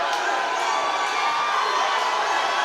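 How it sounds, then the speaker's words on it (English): Wrestling event crowd at the tank roaring wildly during a table-and-chairs brawl, a dense, loud wall of cheering and shouting voices with a few sharp whoops rising out of it. "And this crowd has become unglued here at the tank."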